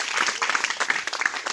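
Applause from a congregation at a Hindi fasting prayer service, a burst of dense, lively hand clapping close by with uneven rhythm, joined by faint voices.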